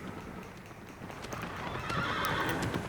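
Horse neighing in the Shadow of the Colossus video game, a whinny with clip-clopping hooves over a steady, moderately loud game ambience, with no talking.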